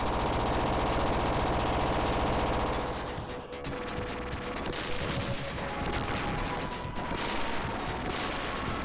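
Dense, continuous gunfire and blasts from the video game Gunstar Heroes roar throughout, loud and busy, with rapid bursts layered over a constant rumble.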